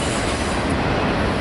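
A Norfolk Southern stack and manifest freight train with a mid-train DPU rolls past close by in El Paso, a loud, steady broadband rumble of railcars with wheel squeal running throughout.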